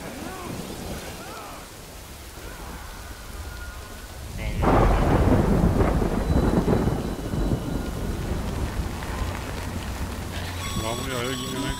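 Thunder and heavy rain from a storm in the video game Death Stranding, a low rumble building sharply around the middle into a dense, loud downpour that carries on steadily, with voices in the game talking underneath.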